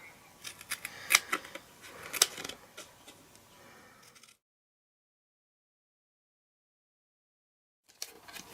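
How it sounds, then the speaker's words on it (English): Scissors snipping through a cardboard box along its score lines, a run of close, crisp cuts over about four seconds, then silence before a brief rustle at the end. "And then you want to cut on either side of the score lines."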